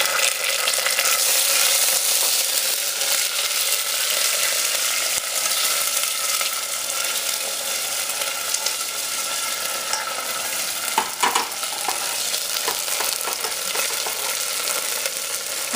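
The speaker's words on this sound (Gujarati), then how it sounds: "હવે આ ટમેટો પેસ્ટને આપણે જરાક રાંધવા દેશું" Tomato paste with curry leaves fries in a pan, giving a loud, steady broadband sizzle with occasional scraping stir strokes, heard alone with no voices.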